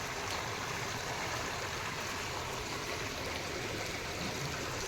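Rain falling onto water outdoors, a steady soft hiss of drops pattering on the surface, continuous and even throughout with no voices.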